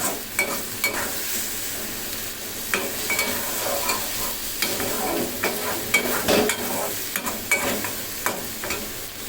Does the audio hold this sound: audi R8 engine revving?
no